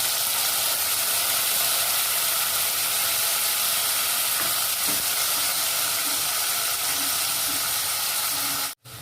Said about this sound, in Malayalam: ഇതിലേക്ക് നമുക്ക് ടൊമാറ്റോ ആഡ് ചെയ്ത് കൊടുക്കാം.